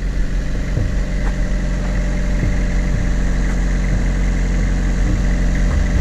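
A repaired Leslie RS3L rotating speaker, once badly corroded from living under a truck, runs with a continuous steady droning hum and faint periodic pulsing, close and even throughout.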